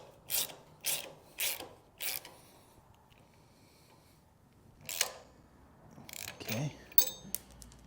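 A ratchet tightening rear brake parts gives several sharp clicking bursts, a quick cluster near the start and more after a pause, close and fairly loud over quiet background.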